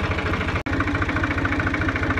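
Tractor engine running on a rain-soaked field, a loud, steady pulsing idle with an even mechanical rhythm and a brief dropout partway through, with no talking over it.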